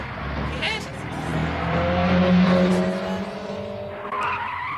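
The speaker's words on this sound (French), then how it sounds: "Regardez une voiture qui arrive." A cartoon car speeds up with a rising engine whine, then its tires screech in a long, loud, close skid as it stops, with voices briefly over it.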